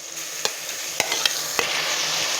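Bitter gourd stirred in a frying pan with onion and tomato, a spatula scraping and clicking against the pan a handful of times over a steady soft sizzle, close by.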